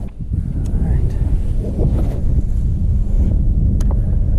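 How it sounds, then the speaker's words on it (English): Wind gusts steadily across a microphone on a lake during winter largemouth bass fishing, a loud, constant low rumble with faint splashy and clicking sounds and no clear speech. "That wind is not going to be fun."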